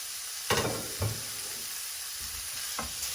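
Minced pork fries in a pan while a wooden spoon breaks it up, giving a soft continuous sizzle broken by a few sharp scraping strokes, close and without talk.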